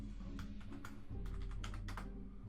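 Fingers typing on a computer keyboard, a quick run of light, uneven key clicks at close range over a steady low background hum, with no talking.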